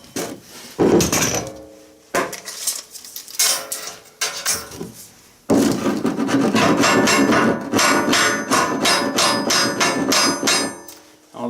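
A hammer strikes metal on an excavator bucket in rapid bursts of sharp, ringing taps, with pauses between runs of blows, loud and close, without talk.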